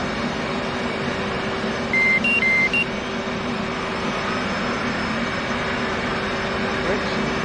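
F/A-18 in DCS World powering up, its systems running self-tests: a short run of steady electronic beeps and tones over a constant cockpit hum and whir of power and hydraulics, with no other sounds.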